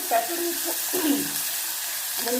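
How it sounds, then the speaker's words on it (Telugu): Bottle gourd pieces stirred in a pan with chana dal and spices, a soft sizzle under scraping spoon strokes, close and fairly quiet, with brief tonal clinks from the utensil. "సొరకాయ ముక్కలు కూడా వేసేద్దాం దీంట్లోనే. ఇది బాగా కలిపేద్దాం."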